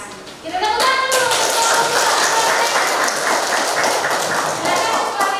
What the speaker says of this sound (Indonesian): Kita tepuk tangan dulu.